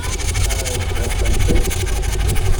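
Compound steam engine running at a spring steam fair, a continuous close low rumble with a rhythmic mechanical beat and faint voices in the background.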